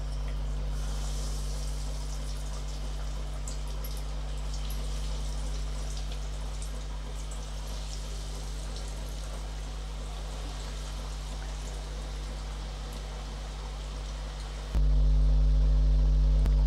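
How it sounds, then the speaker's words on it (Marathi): Vegetable cutlets slide one by one into hot oil in a kadhai, giving a steady, close hissing sizzle that swells louder near the end. "आपलं तेल तापलेलं आहे. आता आपण एक एक कटलेट सोडूया."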